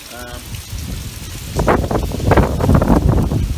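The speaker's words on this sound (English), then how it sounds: "The winds are kicking pretty hard." Blustery hurricane wind roars against the microphone with sideways rain pattering, gusts growing louder and denser partway through.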